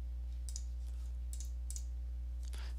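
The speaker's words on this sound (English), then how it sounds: "Just left click on the start button one time." Several light, sharp clicks from a computer mouse on a Windows 10 PC, heard close over a steady low electrical hum and soft background noise.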